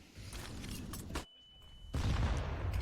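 Grenade blast in a Counter-Strike match, Astralis versus Navi at IEM Katowice: a burst of loud crackling impacts, a brief near-silent gap with a thin tone, then a heavy booming blast rolling on.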